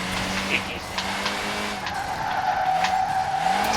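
Tyres of a Mk3 Supra skidding under braking in a racing video game, a sustained squeal over engine drone, close and loud, lasting most of the stretch.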